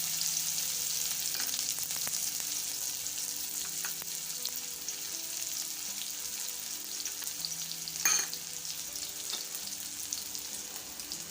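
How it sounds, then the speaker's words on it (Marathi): Finely chopped onion fries in a pan for upma, a steady, close hiss and crackle lasting throughout, with one brief louder stir or clink partway through and no speech. "आता यामध्ये बारीक आपल्याला कांदा ॲड करून घेऊया"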